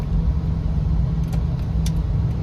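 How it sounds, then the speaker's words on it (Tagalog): A car moves through heavy traffic on the road from Mandaue to Talisay, a steady low engine rumble and road noise filling the interior with no voices. "Grabe man traffic."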